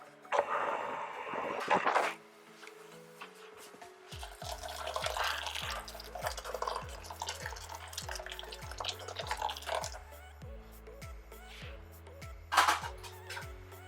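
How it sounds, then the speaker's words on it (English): Hot water is poured onto freshly grated coconut from two coconuts for homemade virgin coconut oil, a quiet close-up trickle and splash that follows a brief burst of handling noise, with no voices. "Now I am going to pour the hot water."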